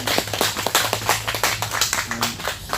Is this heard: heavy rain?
no